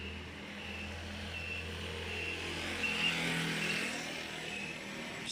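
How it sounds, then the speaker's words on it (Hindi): A motorbike engine drones steadily and slowly swells closer through dense smog on a Lahore road, with a continuous hum of traffic underneath. "यहाँ से बाइक आ रही है।"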